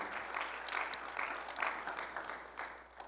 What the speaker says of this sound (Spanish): ¿No le da un fuerte aplauso al Señor por eso?